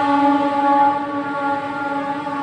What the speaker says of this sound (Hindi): ट्रेन जा रही है, उसकी आवाज है।